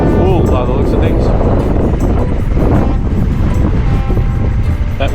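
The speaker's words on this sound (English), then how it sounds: "That wind is strong." Strong wind roars continuously and loudly across the microphone outdoors, a dense, buffeting rush with no pause.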